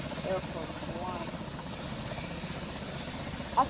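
Roblox Natural Disaster Survival in-game airplane: a steady, droning engine and propeller hum runs throughout at moderate level, with a brief sharp blip near the end.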